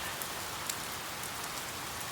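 Steady rain falling, a soft even hiss of drops on a surface, faint and continuous with no voices.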